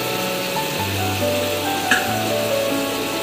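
Salmon methi malai curry with kasuri methi and black pepper cooking in a pan, giving a steady close sizzling and bubbling with a few faint clinks, and no talk.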